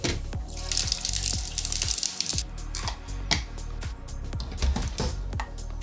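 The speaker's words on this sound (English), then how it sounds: "I'm going to wash out this reservoir, and I'm going to throw some ice and water in here" Water runs and splashes into the reservoir of a Ninja Thirsti drink machine as it is rinsed and filled, with a sharp, repeated rhythmic ticking and clunks throughout and a brief quieter gap midway.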